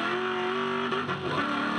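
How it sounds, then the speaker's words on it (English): A race car engine at Bathurst screams at high revs, loud and close, with a sharp whining note that climbs, dips briefly at a gear change and then climbs again. "you heard the engine just screaming"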